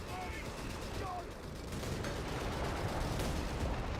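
Artillery fire in Company of Heroes 3 during a 2v2 match, a dense, continuous rumble of distant shelling and gunfire with a voice talking over it.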